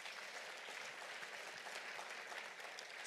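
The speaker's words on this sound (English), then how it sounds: "Give her another round of applause, everyone." Faint, distant applause from a large audience at a gala dinner, a dense and even wash of clapping that holds steady throughout.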